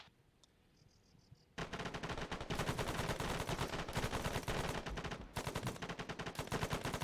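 Rapid bursts of automatic gunfire in a military video game, a brief quiet moment with a faint beep, then sustained loud, closely spaced shots rattling continuously with a short pause near the end.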